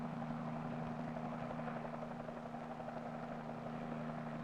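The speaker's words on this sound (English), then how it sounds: "One helicopter will land first at the location selected for the flight release point" An army helicopter hovers near a landing zone, its rotor making a steady, pulsing throb with a strong low engine hum. The sound is constant at a fairly close distance, with no voices.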